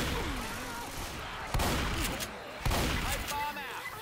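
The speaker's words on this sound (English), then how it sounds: "the pump shotgun with the laser sight" Two sharp shotgun blasts from a pump shotgun with a laser sight in Left 4 Dead ring out about a second apart, the first loud and abrupt, over a busy layer of game noise and chatter.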